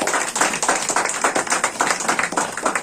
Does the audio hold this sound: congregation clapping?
yes